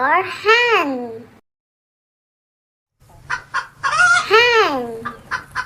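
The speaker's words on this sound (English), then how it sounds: "H for hen." A hen clucks in short, close bursts within a children's alphabet learning song, alternating with a voice speaking.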